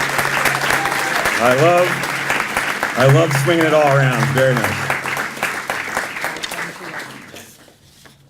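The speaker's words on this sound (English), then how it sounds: "So how about a round of applause?" An audience at a golf club foundation scholarship awards ceremony breaks into loud sustained applause, with someone talking over it in the middle as the clapping gradually tapers off.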